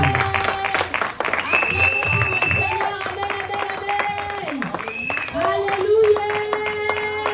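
A church congregation at a New Year's Eve service applauds and cheers under ongoing amplified speech and music, a steady wash of clapping filling the hall throughout.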